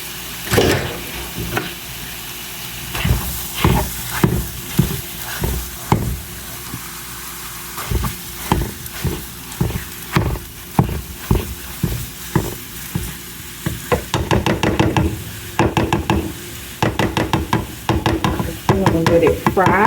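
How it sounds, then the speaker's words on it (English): Sausage meat fries and sizzles in a pan, pierced by a steady run of sharp scraping and tapping strokes from a utensil stirring and breaking it up close by, with no talk. "Let it fry or crust on one side, and once it does that, we're going to start grinding it up."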